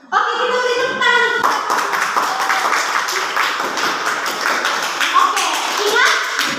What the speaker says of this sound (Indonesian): Oke, kita beri tepuk tangan.